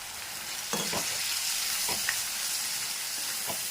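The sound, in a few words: dried fish masala curry cooking in pan with water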